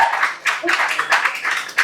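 Applause at the grand opening of a dance school, a crowd clapping in steady bursts for Nakul across the whole moment, fairly close and lively.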